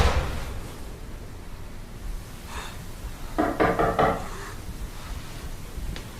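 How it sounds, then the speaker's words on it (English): A few muffled knocks on a door, then a quick cluster of louder raps, heard fairly close in an otherwise quiet room. "he hears a knock at the door"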